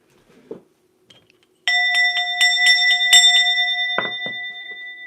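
Bright chiming bell sound effect, a quick run of clear ringing tones that sustain and overlap, ending with a couple of lower struck notes, loud and alone after a brief quiet start.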